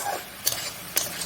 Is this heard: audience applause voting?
no